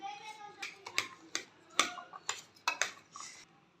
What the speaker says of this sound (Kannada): ಎಲ್ಲನೂ ಇವಾಗ ಚೆನ್ನಾಗಿ ಮಿಕ್ಸ್ ಮಾಡೋಣ